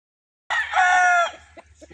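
A Boston Millionaire gamefowl rooster at a game farm gives one loud, close crow lasting about a second, with a few soft clucks after it.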